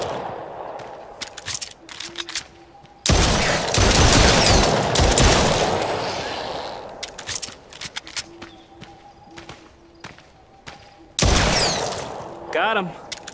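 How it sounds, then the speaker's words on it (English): Gunfire in the Roblox game Brookhaven comes in two loud, dense bursts of rapid shots, with scattered single shots and quieter clicks between them, while a player talks. "Is that how you shoot a gun?"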